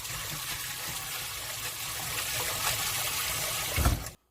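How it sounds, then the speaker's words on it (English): Running water pours steadily from a tap and rinses through a colander, a continuous splashing hiss that stops abruptly at the end. "In a colander, let's drain it, and we can rinse in a cold water."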